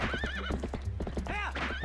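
A horse in the Legend of Zelda: Twilight Princess HD video game trots with quick clip-clopping hooves and a loud whinny, filling the whole short stretch.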